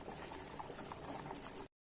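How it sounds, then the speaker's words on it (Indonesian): Coconut milk curry sauce for sambal goreng boiling in a pot, a dense, steady bubbling and simmering hiss that fills the short clip at close range before cutting off abruptly. "Ini sudah mendidih."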